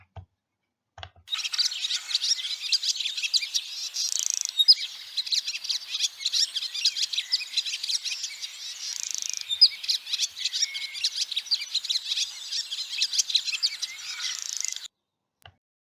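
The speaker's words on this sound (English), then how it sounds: "And this is the swallow." Continuous twittering of a swallow, a rapid, bright chatter of chirps running steadily for about fourteen seconds, fairly close and clear with no voices.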